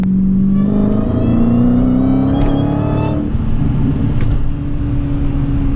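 A 2017 Dodge Challenger Hellcat driving fast, its engine a loud, steady close-up drone that climbs in pitch as it accelerates, then settles into a rougher rumble of road and exhaust noise.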